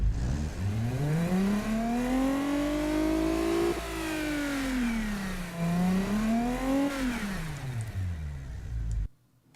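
A car engine in BeamNG.drive revs up and down in smooth sweeping climbs and drops, droning loud and close before cutting off abruptly at the end.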